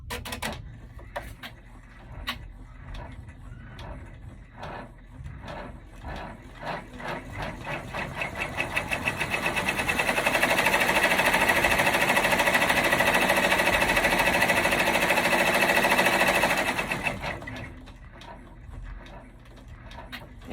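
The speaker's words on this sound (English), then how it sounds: "the next step is just going to do a bean stitch around the design again" An embroidery machine sews a bean stitch around an apple design for a mini composition notebook holder. Rapid rhythmic needle clatter close by builds into a louder dense whirring stretch, then eases back to lighter ticking.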